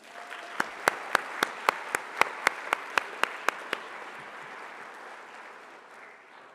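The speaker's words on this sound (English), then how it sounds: "one more round of applause for the retirees" Applause for retiring school district staff at a township board of education recognition ceremony, a crowd clapping with a run of sharp, evenly spaced loud claps standing out near the front before the clapping thins and fades.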